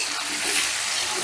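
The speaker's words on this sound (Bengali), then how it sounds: "এবারে গ্যাসের আঁচটা বাড়িয়ে দিয়ে নুন আর হলুদ দিয়ে আলুটাকেও বেশ লাল লাল করে ভেজে নেব।" Potatoes fry in hot oil with salt and turmeric over a raised gas flame, making a loud, dense, close sizzle that holds steady throughout without talk.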